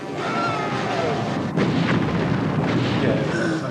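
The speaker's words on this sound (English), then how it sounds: "the bang at the end comes straight out of Thunderbirds" A model-effects explosion from the Space Precinct TV series roars as a dense, sustained rumbling blast, loud and close, with the boom swelling again partway through and holding to the end.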